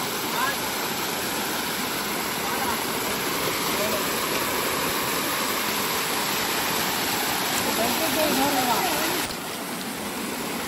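A steady, loud rush of falling water roars without pause, broadband and constant, like a nearby waterfall, at night in rural Konkan, India.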